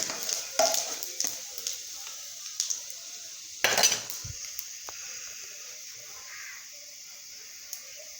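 Red chilli powder and turmeric are stirred in a pan over a low flame for an okra curry, giving a few close metal scrapes and clinks, with a louder clatter midway and quiet gaps between strokes.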